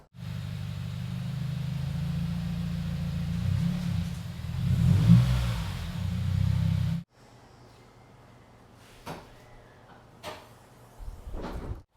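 A Subaru WRX STI rumbles steadily at low speed as it pulls into a garage, the engine drone holding for several seconds before cutting off, followed by a few sharp knocks and clatters in the quiet.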